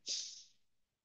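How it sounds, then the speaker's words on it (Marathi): A single soft inhalation taken during a meditation session, a short airy hiss close to the microphone that fades out within a second, heard alone in quiet surroundings. "मी श्वास घेते,"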